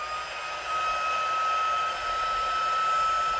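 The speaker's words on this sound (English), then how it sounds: "So here comes my heat tool. Sorry about the noise." Embossing heat tool for card making blowing hot air, a steady loud whine-like rush with a strong fixed tone, continuous and close throughout with no talking.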